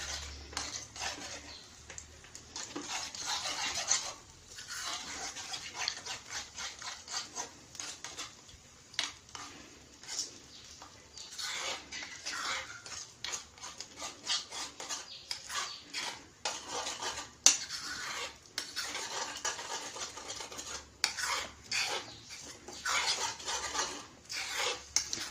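Eggs with salt being scrambled and fried in a pan, with a long run of quiet, busy scraping and clinking from a spatula stirring against metal, close and continuous.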